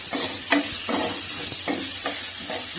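A frying mixture is stirred in a pan with a spoon scraping in regular strokes, about five distinct scrapes over a steady sizzle, close and clear with no talking.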